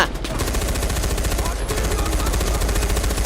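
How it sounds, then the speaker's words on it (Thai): Dense, rapid automatic gunfire from Far Cry 4 rattles on without a break, loud and close, with a brief lull around the middle. "ยิงอัดเข้าไป"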